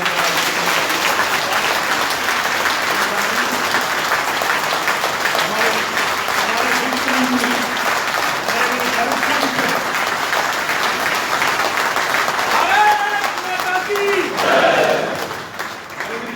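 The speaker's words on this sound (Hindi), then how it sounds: "आदरणीय प्रधानमंत्री जी को जरा जोरदार तालियों के साथ" Loud, sustained applause from a large audience at a budget seminar in Moradabad, dense clapping filling the space, with a voice cutting in near the end as it thins out.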